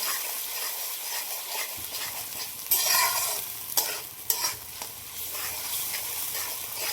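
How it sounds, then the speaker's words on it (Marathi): Tomato paste sautés in a hot pan for masala matar paneer, a steady sizzle with several distinct spoon scrapes and stirring clanks partway through, close and fairly loud, with no talking. "आता आपली टोमॅटोची पेस्ट पण घालून घेऊया ही पण छान परतून घेऊया"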